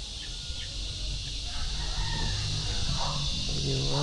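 Backyard chickens cluck and crow intermittently over a steady outdoor hiss, close by and moderately loud, with no talking.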